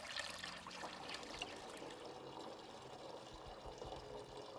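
A homemade liquid mix for spraying against fall armyworm pours into a 5-liter jar, a faint, steady splashing trickle that runs without a break and has no talk over it.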